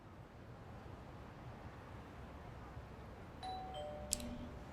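A house doorbell in the video game Lost Judgment chimes once in a clear two-tone ding-dong near the end, preceded by a short electronic beep, over faint steady background noise.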